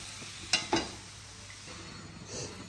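Prawns cooking in a pan give a soft steady sizzle, broken by a couple of sharp stirring or utensil clinks near the start and a faint scrape later, with no talking.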